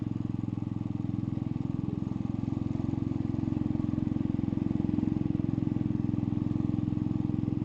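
A motorcycle being ridden on a road near Darjeeling, its engine droning steadily and close with a fast, even pulsing beat throughout, backed by wind noise.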